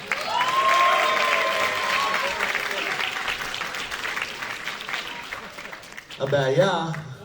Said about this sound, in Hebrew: אפשר להפסיק עם הוואט ולמחוא כפיים?